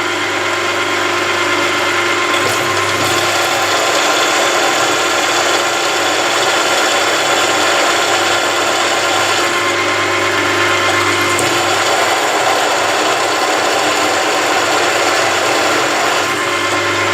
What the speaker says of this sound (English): This is an 8mm drill bit. It's going to give me a pilot hole.